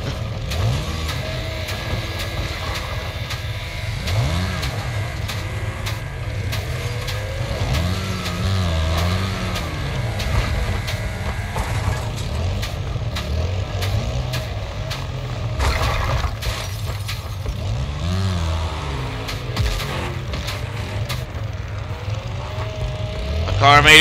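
Car engines in Wreckfest, its Snowball Run mode, revving and roaring up and down in repeated surges, with several cars nearby growling at once, plus crunching impacts, and a final loud rise at the end.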